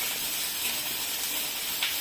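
Ginger fries in hot oil, giving a steady, close sizzling hiss that continues without a break and with no voices.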